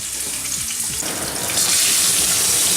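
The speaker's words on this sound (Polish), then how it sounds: "Kładziemy ją na patelnię. Dość spora ilość tłuszczu i smażymy do miękkości." Thin flounder fillets frying in a fairly generous amount of fat in a pan, giving a steady, loud, close sizzle and crackle that grows brighter halfway through, with no talk.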